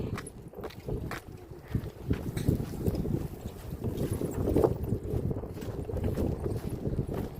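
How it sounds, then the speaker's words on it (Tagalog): Strong cold wind gusts buffet the microphone in a continuous low roar, with intermittent thumps and rustling and no voices, outdoors the day after snowfall. "Lakas ng hangin ngayon."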